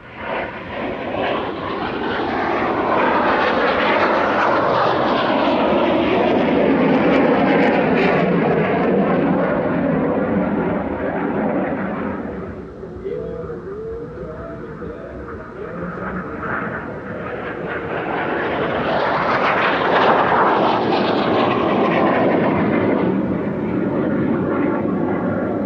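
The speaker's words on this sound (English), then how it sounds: "The surprisingly noisy IAR-99 is a rare sight indeed, and this advanced jet trainer and light attack aircraft from Romania" A Romanian IAR-99 jet trainer and light attack aircraft flies at an airshow in Turkey, a loud roaring jet engine that swells as it passes, dips briefly, then builds again into a second close, noisy pass.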